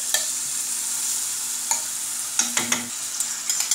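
Onions frying in oil in a pan for a shrimp paella give a faint, steady sizzle, broken by scattered clicks and a short cluster of scraping stir strokes near the end, close and without talk.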